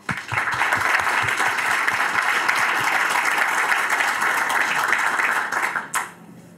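Sustained applause from an audience welcoming a lecturer, dense steady clapping at close range lasting about six seconds before cutting off abruptly.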